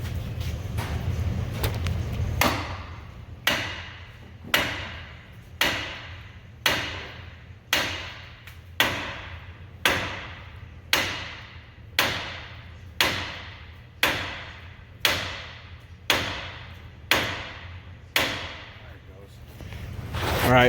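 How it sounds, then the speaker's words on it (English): Sharp metal hammer blows ring out one after another at a steady pace, about fifteen strikes in a row, close and loud, striking a truck steering component to loosen it. "we're gonna take the hammer."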